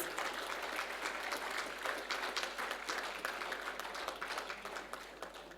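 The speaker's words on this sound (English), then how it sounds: "So come on, join me in applauding all of them." Quiet, steady applause from an audience honoring award winners at a valedictory session, a dense even patter of many clapping hands sustained throughout without any voices.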